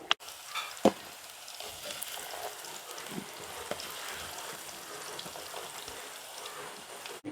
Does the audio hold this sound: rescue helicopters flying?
no